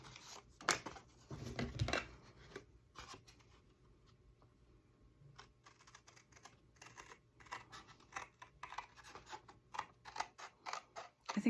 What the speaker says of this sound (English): What I'll do once I cut the long side and that side, I'll just cut those.